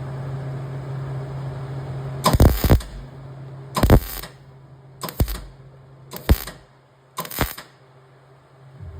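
Metal on a custom wagon body is tack welded in a series of five short, sharp crackling bursts spaced a second or two apart over a low steady hum, with no talking.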